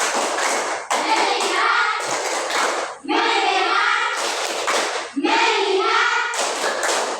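A classroom group performs a patterned focus clap, bursts of many hands striking in rhythm, loud and near, alternating with chanted voices between the claps.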